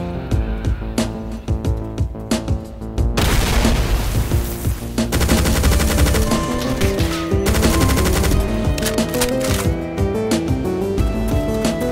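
Rapid automatic gunfire and heavy blasts in the Doom mod Project Brutality, map Storage Facility in Final Doom TNT: Evilution, loud and nearly continuous, with dense bursts filling the whole stretch.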